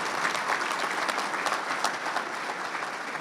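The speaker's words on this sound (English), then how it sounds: "So give the cheerleaders a big round of applause." An audience claps steadily and densely for cheerleaders at a technology education center dedication ceremony, a sustained even round of applause with no voices standing out.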